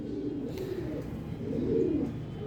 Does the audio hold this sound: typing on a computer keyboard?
no